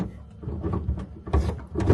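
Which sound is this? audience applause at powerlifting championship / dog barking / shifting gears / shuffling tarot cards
shifting gears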